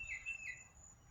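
A bird outdoors gives two or three short, high chirps in quick succession, fairly faint against a quiet background with a low hum.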